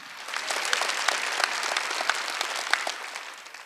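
A church congregation at a Wednesday worship service claps steadily for several seconds, a dense, even patter of many hands filling the room with no voices over it.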